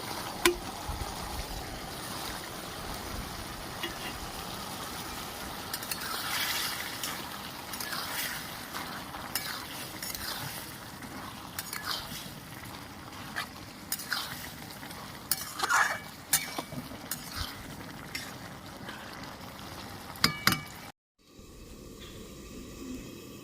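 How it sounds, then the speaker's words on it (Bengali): Fried prawns stirred into a simmering bottle gourd curry in a pan, a steady soft sizzle with scraping and clinks of the spoon against the pot throughout, close and fairly quiet, ending in a brief near-silence. "ভেজে রাখা চিংড়ি মাছ আমি দিয়ে দিচ্ছি"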